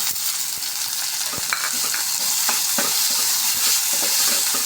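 Chopped onions and tomatoes sauté in a pan for a potato stir-fry, a constant close frying hiss under repeated light clacks of a spoon stirring through the vegetables, with no voices.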